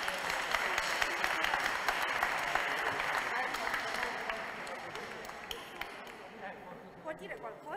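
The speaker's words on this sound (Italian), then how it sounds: "Un applauso anche a Francesco." Applause at a church event honoring a teacher after a Mass, a broad crowd clapping that fades over several seconds, with voices speaking over the tail end.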